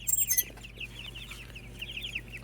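Chickens cluck and chatter in quick, soft runs, with a brief louder squawk at the start; no voices.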